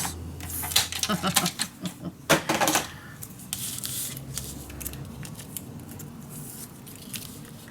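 Scissors cutting paper for a scrapbooking mini album and junk journal, a run of close, crisp snips and crunchy cuts in quick succession, then quieter rustling of paper.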